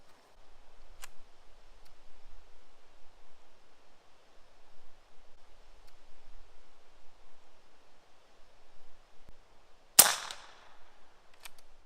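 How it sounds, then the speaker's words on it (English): A single sharp crack of an airgun pistol fired offhand with open sights at 50 yards, loud and abrupt against quiet outdoor background hiss, followed by a faint tick. "an offhand, open sights pistol shot"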